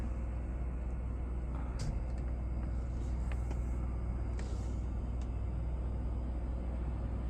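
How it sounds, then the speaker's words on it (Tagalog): A brand-new Freightliner truck rolls in with a low, steady engine rumble, fairly quiet and continuous, with a few faint higher clinks on top. "Freightliner yung truck nila"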